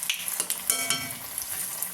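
Sweet potato bonda frying in hot oil, a steady close sizzle and bubbling that runs the whole time with no one speaking.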